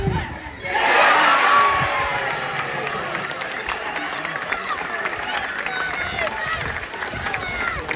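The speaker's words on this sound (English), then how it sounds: "at least the Salisbury fans have had something to cheer today" Salisbury FC supporters at a football match against Tonbridge Angels raise a loud crowd roar that erupts suddenly, then settles into sustained cheering and shouting from a large stand, with a commentator's voice over it.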